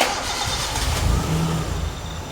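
A Maruti Gypsy engine being started after coolant was added, heard as a brief cranking thump followed by a steady, close-up idle rumble.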